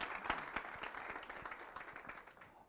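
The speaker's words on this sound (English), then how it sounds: "Mr. Tapelo Maloba, round of applause" An audience at a workshop gives a short round of moderately loud applause, dense clapping that thins slightly toward the end.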